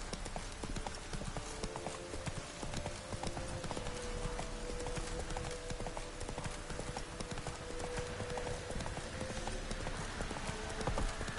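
Geralt's horse Roach galloping in the Witcher 3 video game, steady rapid hoofbeats at close range that keep a constant rhythm over game ambience.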